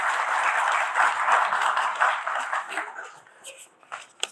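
An audience breaks into loud, dense applause to welcome Dr. Mohammad Akram Chaudhary at an International Arabic Day event at Punjab University, Lahore, and the clapping thins out into scattered claps near the end.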